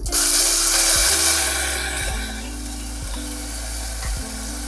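Mustard seeds, asafoetida and curry leaves hit hot oil in a kadai with a loud, steady sizzle and crackle that settles slightly as ground masala goes in, with occasional scraping knocks of a spoon, close and without talk.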